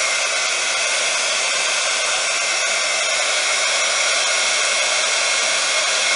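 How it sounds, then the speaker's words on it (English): A heat gun already running hot over metallic embossing powder during polymer clay mask crafting, giving a steady, close, hissing blower roar that stays even for several seconds with no talk. "Then with my heat gun that's already hot."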